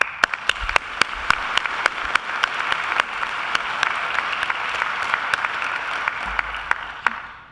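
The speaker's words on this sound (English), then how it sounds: "give them a round of applause" At a Macquarie University graduation ceremony, a large audience claps in sustained, dense applause that holds steady at full volume for several seconds, with a few louder individual claps standing out, before it tapers off at the end.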